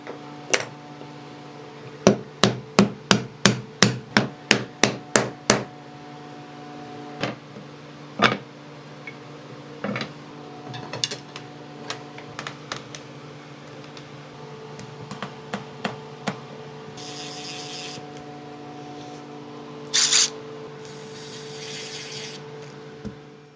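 A CNC router carves a wood panel, giving a sustained machine hum with a rapid series of sharp ticks and knocks, then scattered louder clicks and brief high bursts. No one speaks.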